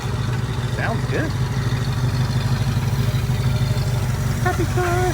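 A 1966 Ford Mustang convertible idles steadily up close, its low engine rumble continuous throughout, with a couple of faint chirps and brief voices over the top.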